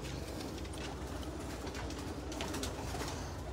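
A female Shah Parwaz pigeon at a breeder's loft in Faisalabad gives soft, low coos under a steady wash of background noise; no one speaks.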